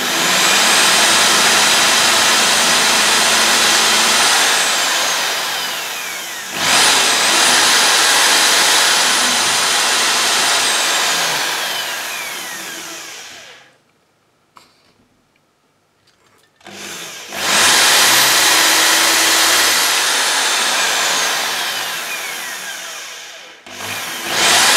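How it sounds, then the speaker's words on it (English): A power drill bores holes into a wooden model hull, loud high-pitched whirring in long sustained runs, each slowing at the end, with a brief near-silent pause between bursts of drilling. "now I just take the drill and start drilling holes till I'm blue in the face."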